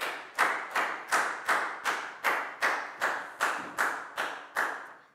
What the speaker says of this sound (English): Big round of applause for Prao